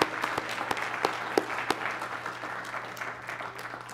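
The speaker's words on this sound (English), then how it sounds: "I want to give them a round of applause because I think they do more work than anyone here." Conference keynote audience applauding steadily at moderate volume, a dense patter of many hands with a few sharper claps standing out early on.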